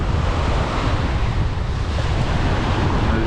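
Strong wind buffets the microphone on an open sea shore beside a busy shipping channel, a loud, constant roar blending with crashing surf and no voices.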